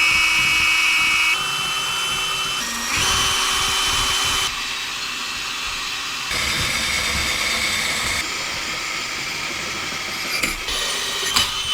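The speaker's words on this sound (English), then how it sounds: "But now we can drill these two holes and bolt it on." A power drill bores two holes to bolt a slim underseat 800-watt subwoofer onto a shelf, giving several sustained whirring bursts that shift in pitch and load, close and fairly loud.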